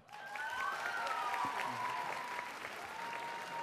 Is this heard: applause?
yes